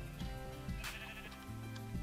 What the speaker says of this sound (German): Ich nehme mal gleich das Schaf.